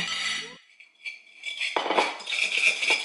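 A spoon clinks and scrapes in a bowl, stirring melted butter with sugar for French toast, with soft bursts of metallic clatter and no talking.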